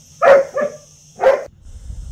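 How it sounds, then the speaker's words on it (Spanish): A female dog barks sharply three times in quick succession, close and loud, the last bark after a short pause, while tugging at a stick with her mother; faint background hiss remains afterward. "Tengo ya la perra ladrando que está quitándole el palo"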